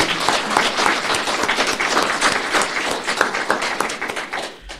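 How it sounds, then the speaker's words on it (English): An audience at a House District 33 candidate forum applauds the two candidates: lively, many-handed clapping, loud and full at first, then thinning and fading toward the end. "right now I'd like to have the audience show their appreciation to our two candidates"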